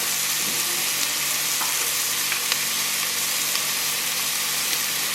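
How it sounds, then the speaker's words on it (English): Red chowder base with pepper and oregano sizzling steadily in a pot while being stirred, a continuous close hiss broken by faint scraping taps, with no speech. "So we'll just stir this all together for a bit."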